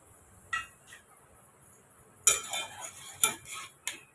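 A few soft, scattered clinks and scrapes of a utensil against a pan as soy chunks are stirred into fried rice, quiet and intermittent with near silence between them.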